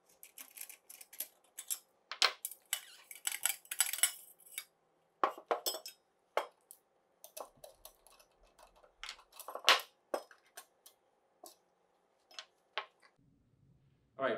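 Metal parts of a quarter-inch perforated angle line strainer element being taken apart, a series of close, sharp clinks, taps and rattles in irregular bursts separated by quiet gaps.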